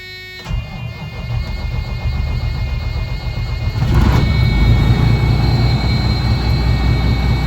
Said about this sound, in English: let's fire it up, build the air, and test it